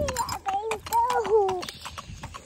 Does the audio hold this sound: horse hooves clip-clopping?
yes